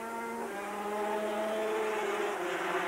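A 250cc racing motorcycle engine from a 1981 Australian championship race at Amaroo Park drones loudly and steadily, its high whining pitch sliding slightly as it speeds along the track.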